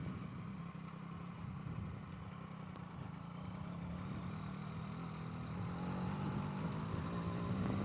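A motorcycle engine hums low and steady while riding a winding mountain road, faint and continuous with a slight rise toward the end.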